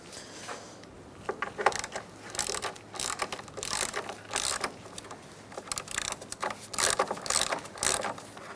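A ratchet wrench tightens a Fiat's battery hold-down, giving irregular bursts of quick clicking that are faint and close, with short pauses between strokes.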